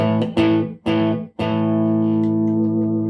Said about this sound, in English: a gated reverb like this